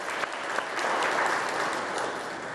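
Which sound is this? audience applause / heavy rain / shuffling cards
audience applause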